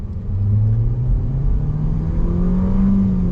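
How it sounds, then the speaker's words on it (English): A 2021 Nissan Kicks small SUV pulls hard at full throttle, its engine drone rising loud and steady in pitch from inside the cabin, with no talk over it. "Let's go on throttle. Here we go."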